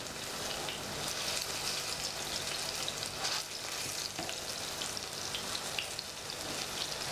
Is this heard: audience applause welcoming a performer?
no